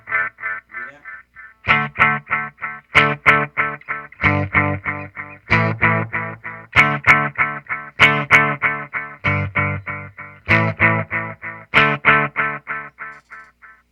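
A guitar strummed through a Donner Yellow Fall delay pedal with the echo set deep, heard as a steady series of loud, rhythmic chords, each trailing into repeating echoes that ring nearly as strong as the initial strums.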